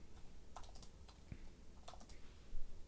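Soft computer keyboard typing in two short bursts of quick, light key clicks, fairly faint against a low background hum with no voices.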